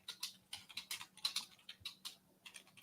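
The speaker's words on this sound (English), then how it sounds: "Loud ass keyboard." A loud computer keyboard is typed on in quick, uneven bursts of crisp clacking keystrokes. The sound is close and alone, with short pauses between flurries.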